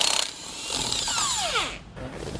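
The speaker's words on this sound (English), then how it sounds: "we're going to use our socket to remove all the nuts" A power socket tool spins off wheel nuts from a Dexter trailer hub with a 21 mm socket, giving a loud whirring burst with falling pitch sweeps, then a short pause and another brief whir.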